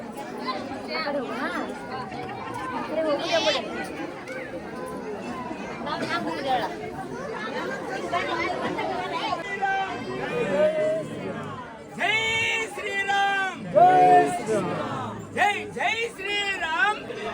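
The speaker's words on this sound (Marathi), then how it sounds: "लॉंग वीकेंड प्लस सॅटर्डे, त्याच्यामुळे आज खूप गर्दी आहे." A crowded Hampi tourist site on a busy long-weekend Saturday carries a constant babble of many voices, with nearer speakers rising and falling over the general hubbub.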